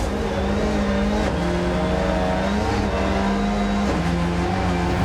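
A Subaru rally car driven hard up the Mount Washington hill climb, its engine loud and close, holding high revs with shifting pitch as it accelerates, no talk over it.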